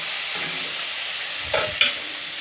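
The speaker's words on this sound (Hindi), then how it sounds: "सब चीज दऽ कऽ अहाँ ओकरा बढ़िया से फ्राई करू।" Green chillies and tomato fry in a pan for Rajasthani gatta curry, a steady close sizzle running throughout, with two brief sharper clatters of stirring near the end.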